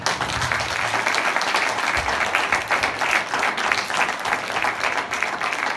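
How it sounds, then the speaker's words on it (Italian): A theatre audience claps for the stage crew after a performance, a full, lively round of applause with a busy, uneven patter that carries on steadily for several seconds. "Vogliamo fare un applauso a chi ha voglia di uscire dalla roba?"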